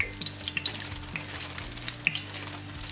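Flounder dropping into hot oil for frying, a close crackling sizzle with sharp pops and spits over a low steady hum, no one speaking.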